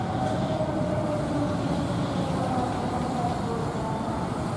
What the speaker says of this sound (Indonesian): Kereta memasuki stasiun Pasar Senen.